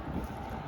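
Strong wind buffets the microphone at a desert camping site, a continuous low roaring rush with no pauses, loud and close, and no voices.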